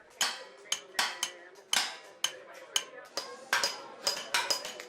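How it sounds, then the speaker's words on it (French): Hammers ring against metal in quick, irregular strikes, sharp clanging blows overlapping at a moderate distance, on the blacksmiths' and coppersmiths' street of Khan el-Khalili souk, Cairo. "les marteaux résonnent"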